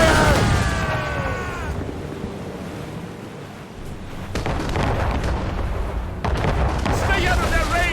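Naval battle in Assassin's Creed Rogue, with heavy booms of cannon and mortar fire bursting over rushing sea and wind, along with a brief shouted voice at the start and scattered impacts later.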